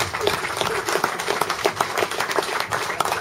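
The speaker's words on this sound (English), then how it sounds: "Give a big round of applause, if you would, please, to Alistair Seeley" Audience applause at a motorbike show, a moderate crowd clapping steadily with distinct individual claps audible throughout the short stretch.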